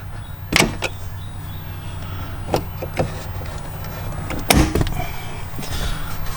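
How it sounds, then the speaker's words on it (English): Plastic airbag cover on a BMW M3 pried out with a small flathead screwdriver: a few sharp clicks and pops stand out against a steady low hum, the loudest snaps arriving in two distinct bursts. "we take a small flathead screwdriver, put it right here in the corner, and pop this guy out"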